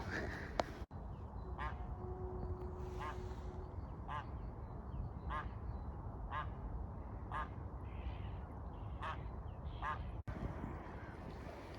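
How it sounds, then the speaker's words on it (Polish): Ducks quack in a steady series of short calls, roughly once a second, among water birds on a pond, heard at middle distance over constant wind and background noise, with no talking. "widzę tam całą masę ptaków wodnych"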